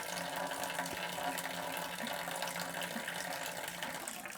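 Water drains steadily from a garden hose connected to a household water line during a filtration system install, a constant rushing, hissing flow without breaks, fairly faint and even throughout.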